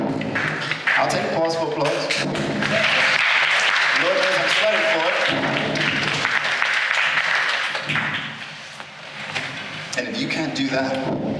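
Audience applause fills a stage talk, steady broadband clapping running for most of the stretch with a voice over it at the start and end.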